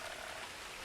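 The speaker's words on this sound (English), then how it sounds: "Where's the frog? I hear it." A frog croaks softly in the game What Remains of Edith Finch, a faint, brief bit of sound under a quiet, steady ambient bed with no speech.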